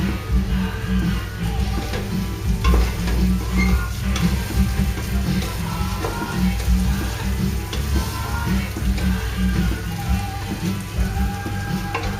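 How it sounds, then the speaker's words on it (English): Steady, crackling sizzle of food frying in a pan, close and continuous throughout with no talking. "now it's frying"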